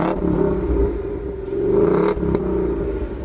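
A 2019 Ford Mustang's big non-turbo petrol engine revving up close, a loud, deep, sustained growl that rises and falls with a brief dip between revs.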